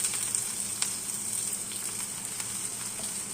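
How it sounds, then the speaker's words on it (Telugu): Thinly sliced onion frying in hot oil for mutton keema curry, a steady close sizzle and hiss that runs without a break, with a few faint crackles and no voices. "ఆయిల్ వేడెక్కిన తర్వాత ఒక ఉల్లిపాయ సన్నగా కట్ చేసుకొని వేసుకోవాలి"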